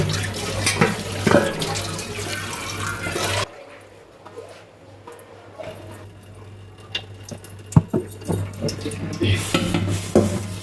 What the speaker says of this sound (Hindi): तेल के बाद एक ड्रॉप लेमन मैक्स का लेके उसके साथ अच्छी तरह इसको मैं दोबारा से एक बार वॉश कर लेती होती हूँ